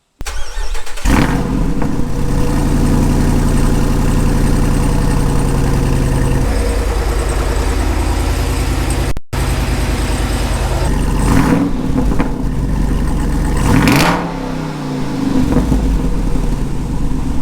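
A Jeep Wrangler Rubicon 392 V8 cold-starts with a loud crank and catch, settles into a deep rumbling idle, then gets blipped in a couple of sharp revs near the end, close and loud with no talking.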